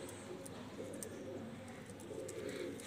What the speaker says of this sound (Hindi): ये हमारा जी बहुत अच्छा कबूतर है जी माशाल्लाह